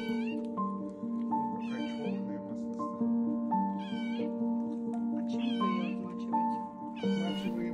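A rescued kitten at the vet, its fur being cleaned with vegetable oil, meows loudly and repeatedly, about one cry per second, over a steady tonal hum in the background.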